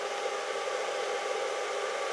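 A cooling fan on a power supply driving a rust-removal electrolysis setup gives off a steady, airy whir with hiss, constant and moderately quiet, with no talking.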